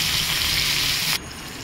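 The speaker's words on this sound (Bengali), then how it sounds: "এবার মাছটা ভাজা বসিয়ে দিলাম" Fish rubbed with salt and turmeric hits hot oil in a pan, giving a loud, steady hiss of frying that cuts off abruptly to a quieter background.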